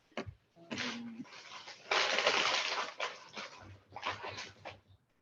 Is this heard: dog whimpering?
yes